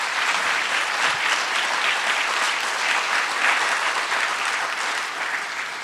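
Audience at the Alberta Economic Summit applauding, a loud, steady burst of clapping from a large crowd that holds evenly for several seconds with no talk over it.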